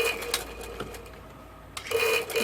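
A sewing machine stitches a kurta hem in short bursts, a quiet whirring run that pauses for a moment before starting again, close and fairly soft.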